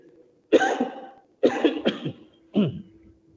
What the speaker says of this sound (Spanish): tengo con un catarro, así que voy a toser un poquito.